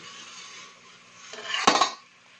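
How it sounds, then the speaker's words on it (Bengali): A metal lid slowly slid aside on a pot steaming rice-flour puli pitha, a soft scraping glide that swells into a short, bright metallic clatter near the end, close up with no voices. "আমি এবার আস্তে আস্তে ঢাকাটা একটু সরিয়ে দেখব যে কতটা হয়েছে"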